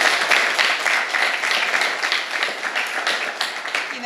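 An audience at a high school competition awards ceremony applauds steadily, with dense continuous clapping throughout, fairly loud.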